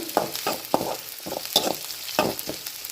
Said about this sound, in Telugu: అలాగే దీనిలో 2 వెల్లుల్లి రెబ్బలు అనేది వేసి వేయించుకుంటున్నాను